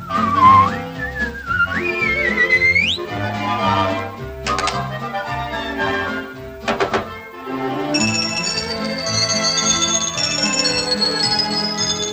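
Bright music from a Pinocchio stage musical with chiming bells and plucked notes, opening with a rising, sliding whistle that swoops upward a few times before the tune continues.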